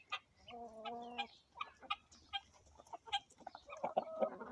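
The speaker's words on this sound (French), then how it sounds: "il y a une petite poule Pékin blanche" A white Pekin bantam hen clucks in a series of short, faint calls with a few drawn-out tonal notes, amid other soft farmyard chicken sounds.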